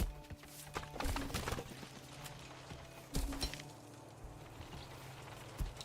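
Horse hooves clip-clopping in the medieval city-building game Manor Lords, a few irregular clusters of soft thuds over a steady low ambient bed, moderately faint and without talk.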